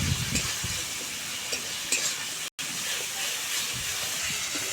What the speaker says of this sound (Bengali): জল দিয়ে মশলাটাকে খুব ভালোভাবে নেড়ে চেড়ে আমি কষিয়ে নেব।